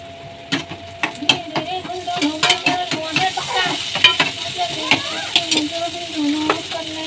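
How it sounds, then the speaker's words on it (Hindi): Gatte sizzle in a pan with garlic and onion as a spoon scrapes and stirs them, with frequent sharp knocks against the pan over a steady hiss of frying, close by. "इधर फटाफट गट्टे छोकेंगे, लहसुन प्याज वगैरह वगैरह वगैरह सब डाल दिया"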